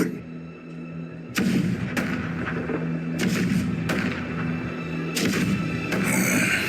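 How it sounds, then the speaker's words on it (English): Repeated heavy cannon blasts in the video game Honkai: Star Rail boom at irregular intervals, loud and close, over a continuous low rumble. "Do you hear that? The rumble of the cannons."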